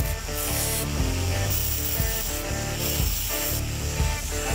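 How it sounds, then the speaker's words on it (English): A hacksaw cuts through a machined metal lightsaber hilt with a steady back-and-forth rasp, about one stroke per second, loud and close and heard alone. "After machining, I simply cut it in half with a hacksaw."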